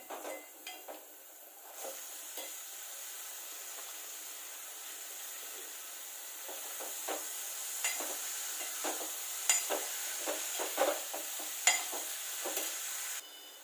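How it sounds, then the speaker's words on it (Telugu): Broad beans frying in oil with ginger garlic paste, a steady close sizzle with intermittent scraping stirs and soft utensil clicks against the pan, no voices. "కొంచెం పచ్చివాసన పోయేంత వరకు ఆయిల్లో మనం ఫ్రై చేసుకొని"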